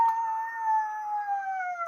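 A child imitates a dog's howl with one long, sustained, siren-like wavering tone that slowly slides downward, clear and close, with no other sounds around it.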